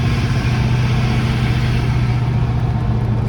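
Open-face blow-off valve on a 2001 Ford SVT Cobra with fuel mods venting during a drive, a steady breathy whoosh under continuous engine drone, loud and close, with no talking.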